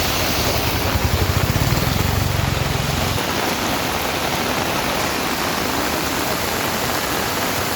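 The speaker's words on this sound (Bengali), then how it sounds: "এখানে প্রচুর পরিমাণ বৃষ্টি হচ্ছে।" Heavy monsoon rain pours steadily during a flood in Bandarban by the Sangu River, a dense, loud, continuous hiss with a brief low rumble in the first few seconds.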